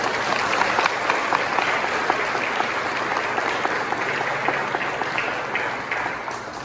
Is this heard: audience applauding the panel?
yes